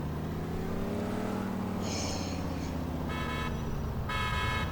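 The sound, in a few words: car horn honking in video game GTA IV LCPDFR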